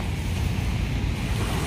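Strong sea waves roll continuously onto a Manila Bay beach after heavy rain, a loud, steady rumbling surf with wind buffeting the microphone.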